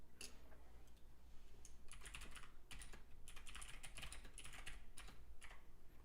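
Steady typing on a computer keyboard, a run of quick, irregular key clicks of even loudness, close by and alone over a low background hum.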